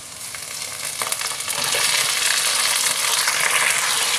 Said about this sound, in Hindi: बॉईल किया हुआ चिकन डालते हैं।